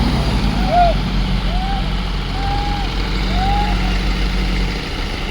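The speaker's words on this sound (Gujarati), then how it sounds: "ટ્રેક્ટર ખરા ખરા કરતી જાય." A tractor engine drones steadily nearby in a wet sugarcane field at night. Four short rising whistle-like tones repeat over the engine noise, and faint voices can be heard.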